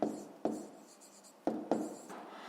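A pen writes in a school math notebook, scratching softly at close range with several distinct strokes and taps spaced unevenly across a few seconds, no voices.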